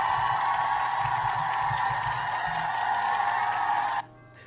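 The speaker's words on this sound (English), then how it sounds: "let's have a little cheer for them" An audience cheers for St. Kitts and Nevis independence with a sustained, even roar of crowd noise and applause. It cuts off abruptly near the end, leaving only a faint background hum.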